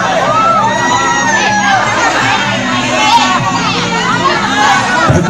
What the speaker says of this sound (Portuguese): faz barulho aí, pessoal